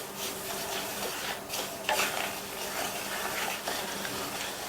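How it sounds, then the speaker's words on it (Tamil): Dry semolina (rava) roasting in a pan over a low-medium flame, stirred with a steady, gritty rubbing and scraping that continues throughout, with a few louder scrapes. "அதனால இதை 4லேருந்து 5 நிமிஷத்துக்கு வறுக்க போகிறேன்"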